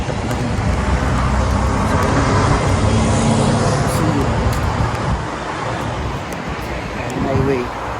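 Steady roar of passing cars on a Hungarian highway, loud and continuous with a swelling pass near the end, while a person talks over it.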